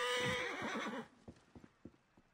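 A horse in Assassin's Creed Origins gives a loud, wavering neigh up close, then settles into a few sparse, light clip-clop hoof steps.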